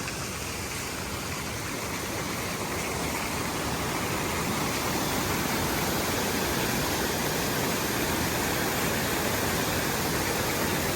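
A small waterfall on Dim Stream, a mountain stream in the Taurus range near Alanya, Türkiye, pours in a steady, dense hiss and rush of falling water, close and continuous without pause, with no talking.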